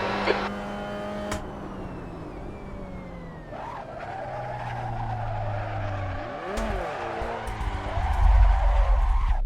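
A Mazda MX-5 race car slides sideways on cold tyres at Snetterton, tyres squealing and skidding over a loud, wavering engine note that swells toward the end.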